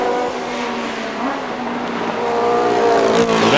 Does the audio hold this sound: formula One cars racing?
yes